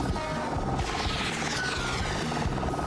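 Helicopter in the video game Sly Cooper: Thieves in Time: a steady, loud rotor chop and engine whine that holds throughout without talk.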